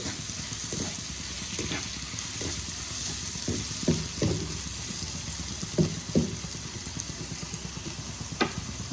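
Chopped tomatoes fry with restaurant-style chicken keema in a pan, giving a steady hiss and sizzle, with intermittent scraping and clinking knocks as the mixture is stirred.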